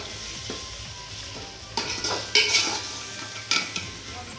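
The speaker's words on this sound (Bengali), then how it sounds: "ভালো করে কষানো হচ্ছে এবারে।" Chicken with spices stir-fried in a pot for biryani: steady sizzling with scraping spatula strokes and metal clinks, louder bursts around the middle and end, close and without talk.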